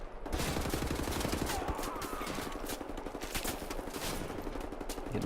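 Dense, continuous gunfire from Wolfenstein: The New Order, rapid automatic bursts rattling without pause at a steady loud level, with a faint voice briefly under the shooting.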